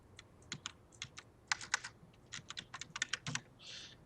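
Keys tapped on a computer keyboard while entering the word prospect, heard close and alone as an uneven run of about twenty crisp clicks with short pauses between bursts.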